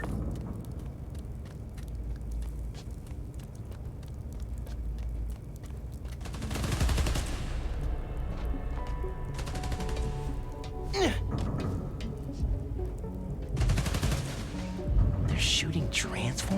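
Bursts of automatic gunfire from a video game combat scene, with shooters firing on power station transformers in Spider-Man: Miles Morales; loud crackling volleys and booms come in several clusters over steady background noise.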